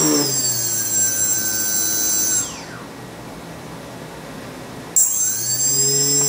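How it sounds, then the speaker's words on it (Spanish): Brushless motor on a 250-size FPV quadcopter during an OpenPilot motor test, a loud high-pitched whine that winds down and goes quiet mid-clip, then spins up sharply again. "Es importante también ver que el motor esté girando en el sentido que corresponde."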